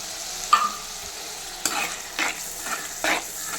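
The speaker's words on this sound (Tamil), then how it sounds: "இது நல்லா வதக்கணும்." Ginger garlic paste and ground masala sauté in a pan for a Kilangan fish curry, a soft sizzle under four or five distinct stirring scrapes spaced irregularly, close and without speech.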